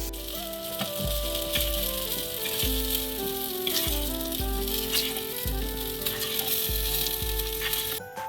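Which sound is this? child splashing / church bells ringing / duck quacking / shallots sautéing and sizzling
shallots sautéing and sizzling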